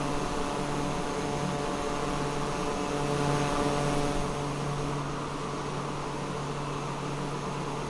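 An airplane engine in Microsoft Flight Simulator 2024 on PS5 drones steadily with a constant broadband roar and a low tonal hum, unchanging and even for the whole stretch, with no talking.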